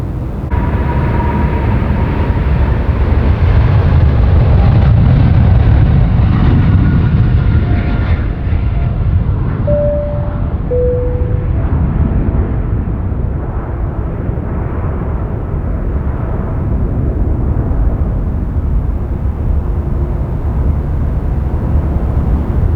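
An aircraft at Sydney Airport roars loudly and continuously with a deep broadband rumble. Its high whine fades gradually as the plane passes and recedes. A few faint tonal squeals sit over the noise, and no one speaks.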